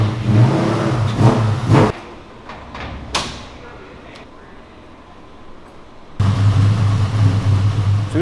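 A rebuilt Ford Mustang SN95 road race car roars on a rolling dyno. A loud, deep engine drone cuts off abruptly, leaving a quiet stretch with a few clicks and rattles, then the heavy roar returns at full strength.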